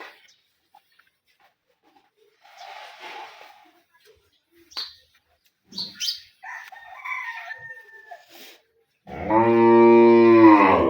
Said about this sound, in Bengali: এটা ষাঁড় বাচ্চা